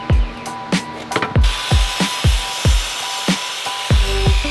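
A saw cuts a 1x2 poplar trim piece with a steady series of rasping back-and-forth strokes, about ten evenly spaced, close and fairly loud.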